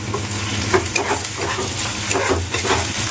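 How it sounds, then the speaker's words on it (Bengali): Chopped onions frying with ginger-garlic paste in a pan for a fish roe curry give a dense, continuous sizzle with soft stirring scrapes and light utensil clinks. The sound is close and steady, with no talking. "পেঁয়াজটা আমি লাল লাল করে ভেজে নেব দেখো পেঁয়াজটা আমার লাল লাল হয়ে এসছে এর মধ্যে আমি এক চামচ আদা রসুন বাটা দিয়ে দিলাম"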